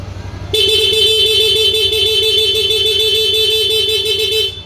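A Yamaha Mio Soul i 125 motorcycle's stock electric horn blares loud and steady for about four seconds over a faint idling hum, with a slight warble and a clean stop.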